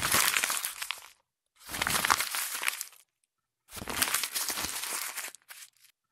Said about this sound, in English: we'll apply paper sound effects